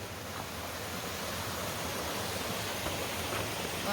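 Steady, powerful roar of a waterfall fed by a small stream in Uvas Canyon, a continuous broadband rush of falling water close by, unbroken and without voices.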